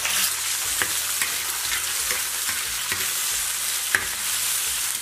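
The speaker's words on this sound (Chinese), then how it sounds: "肉片爆锅" Meat slices stir-fried in a hot wok after celery and salt, crackling in a continuous loud sizzle, with a sharp clatter of the spatula stirring every second or so.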